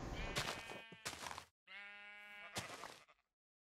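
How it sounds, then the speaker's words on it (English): A sheep in a Minecraft modpack game bleats in three long, wavering, close calls separated by short gaps, with no other sound around them. "I'll kill the sheep here to demonstrate"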